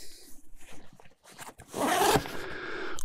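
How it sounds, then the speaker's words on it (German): A zipper on a Mystery Ranch Beartooth backpack is pulled open in a long L-shaped run, a rough ripping rasp that grows loud and steady after a few faint earlier tugs. "Ihr macht hier den Reißverschluss auf in einer L-Form."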